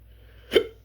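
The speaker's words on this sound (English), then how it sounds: "Oh, fuck, I got hiccups." A single short hiccup, sharp and fairly close, breaking an otherwise quiet moment with only a faint low background hum.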